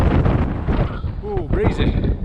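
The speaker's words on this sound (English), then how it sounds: "Quite breezy up here." Steady wind buffets the microphone with a low roar throughout on an upland hilltop at Stoodley Pike in the South Pennines, while a voice speaks briefly under it.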